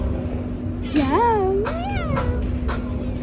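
A cat in a restaurant in Cairo gives two or three drawn-out, rising and falling meows up close, over a steady hum and background murmur of people talking.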